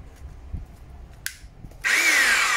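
A handheld power drill, quiet at first apart from a brief click, then starts drilling with a loud, high, steady whine for the last second or so.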